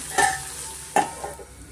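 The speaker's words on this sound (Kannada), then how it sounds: "ನೀಟಾಗಿ ಚೆನ್ನಾಗಿ ನಾವು ಎಣ್ಣೆನಲ್ಲಿ ಫ್ರೈ ಮಾಡ್ಕೊಬೇಕಾಗುತ್ತೆ ಈಗ" Onions and curry leaves fry in oil for chicken liver pepper dry, giving a steady close sizzle broken by two quick scraping stirs of the spoon in the pan.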